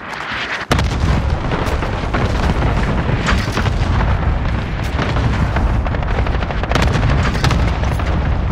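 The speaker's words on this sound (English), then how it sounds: "Allied cluster strike inbound." Video game allied cluster strike: a dense, continuous barrage of loud booming explosions and cracking blasts rolls on for several seconds after a brief quiet start, close and heavy.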